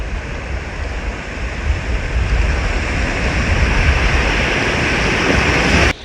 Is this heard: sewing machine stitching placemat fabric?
no